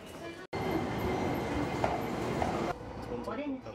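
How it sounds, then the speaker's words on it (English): Tokyo metro train ride during evening rush hour: a steady, loud rumble of rail wheels and carriage noise fills the clip after a brief gap, with some squeal-like tones, easing somewhat toward the end. "Then, long metro ride during evening rush hour"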